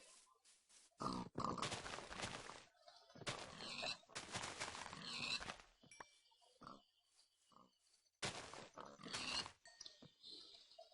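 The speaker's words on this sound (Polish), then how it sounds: "Tu są świnie." Pigs grunting in the video game Minecraft, several short nasal oinks and snorts arriving in bursts with quiet gaps between, close and clear, alongside other game noises.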